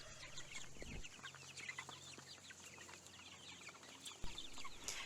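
Chickens crowded into a chicken tractor cluck softly and continuously, a faint, busy chatter of many birds heard from close by outdoors.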